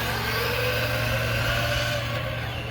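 A Redcat RC-MT10E compact 10th-scale RC truck accelerates during a speed test, its motor giving a steady, continuous whine layered over a low rumble, with no talk.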